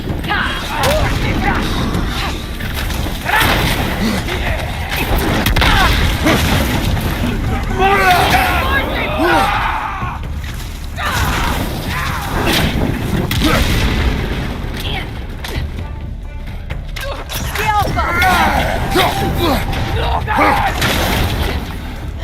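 Heavy booming cannon fire and explosions in God of War Ragnarök battle, continuous and loud, with dense overlapping blasts, rumbling low end and chaotic crowd-like battle noise throughout.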